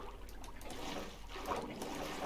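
Flowing water in Minecraft with the Vault Hunters modpack: a soft, continuous trickling and splashing wash, fairly quiet and steady, with no talk over it.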